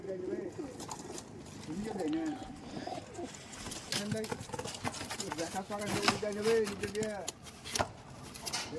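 Teddy pigeons, a high-flying fancy breed kept in a loft, give soft, repeated throaty coos close by, while someone talks over them throughout.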